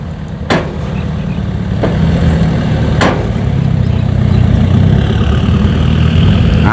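A dump truck's heavy engine rumbles loud and steady while its bed rises as it tips soil, with a few sharp metallic clicks breaking through the low drone.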